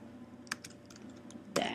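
Keystrokes on a computer keyboard entering a server domain command, a few scattered clicks followed by a short burst of quicker typing near the end, close and fairly quiet.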